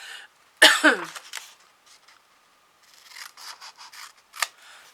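Scissors snip through paper close by, a few crisp cuts followed by lighter rustling and small snips, with a cough and throat clearing mixed in.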